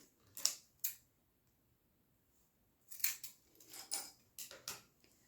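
Scissors snipping through fabric, cutting a strap of a small trapezoid zip pouch in half at a sewing table; a few short crisp snips come close and quiet, a pair early, then a cluster of several after a pause.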